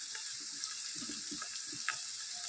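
Onions and green chillies fry in a hot pan with a steady, close hiss and crackle, and a few soft stirring scrapes rise through the middle.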